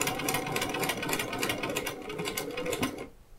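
A sewing machine runs steadily for about three seconds, stitching a quarter-inch quilt seam on a spoke hexagon quilt block, then stops abruptly into near silence.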